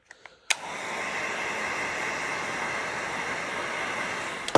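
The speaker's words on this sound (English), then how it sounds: "I'm gonna have to heat that a little more and stretch it over." Heat gun warming taillight tint film on a 2021 Mustang Mach-E, a few faint clicks and then a sudden, steady, close blowing roar that runs without a break until a final click, with no voices.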